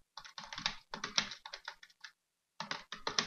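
Someone types an SQL query on a computer keyboard: rapid, close clusters of key clicks in several bursts separated by short pauses, with no voices.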